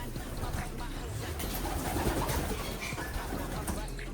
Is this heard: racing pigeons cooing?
yes